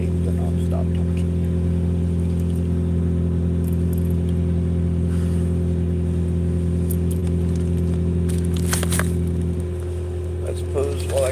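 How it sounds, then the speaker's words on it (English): A car engine idling steadily and loudly, a constant low hum that holds unchanged for about eleven seconds, with a brief rattle or jingle near the end. "I suppose while I got my car running and I'm wasting gas"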